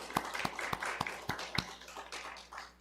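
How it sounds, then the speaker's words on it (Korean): Church congregation applauding during a Korean Sunday worship service: faint, sparse claps with a handful of sharp individual taps in an irregular rhythm, heard at a distance. "네, 박수해 주시기 바랍니다."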